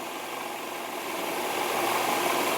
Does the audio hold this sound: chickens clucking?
no